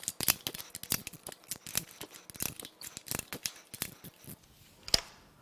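A hand tool loosens bolts on a Dodge Ram 2500 5.7 engine, giving sharp, irregular metallic clicks and ratchet snaps close by.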